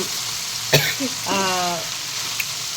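Curry fries in a pan in a home kitchen, giving a soft steady sizzle with a sharp clink near the start and a brief voice-like tone partway through.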